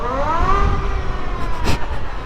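An Energica electric street fighter motorcycle passes close by with a loud whining electric-motor sweep that rises and falls, followed by a brief burst of noise.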